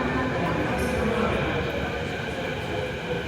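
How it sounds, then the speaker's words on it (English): A Canada Line SkyTrain rolls into a Vancouver station with a loud, steady rumble and whoosh, a faint high whine above it, and a person speaking under the noise. "All right, Canada Line train is here."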